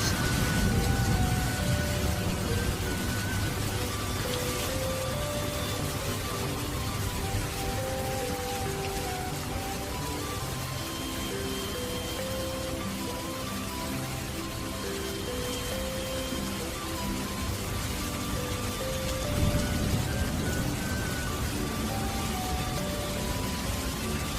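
Steady rain pours down outdoors during a rural durian-hunting trip, a dense continuous hiss running the whole time with faint tonal sounds beneath and no clear talk.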